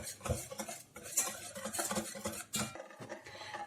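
Rapid clinking of a hand whisk against a bowl as eggs and sugar are beaten, quick irregular strokes up close, with no talking.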